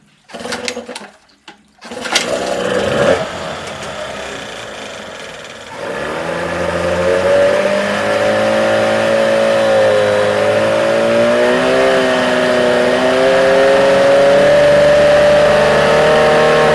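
A small Tohatsu outboard motor with poorly set ignition and a choke that won't fully open coughs, sputters, then catches and runs steadily, its pitch rising and wavering as it revs, loud and close with no voices.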